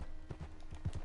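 Horse hooves clip-clopping at a steady walking rhythm in the video game Red Dead Redemption II, soft and fairly faint over a brief stretch.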